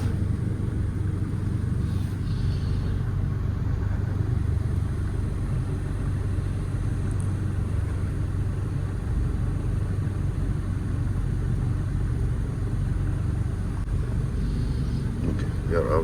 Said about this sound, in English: Your car going straight back.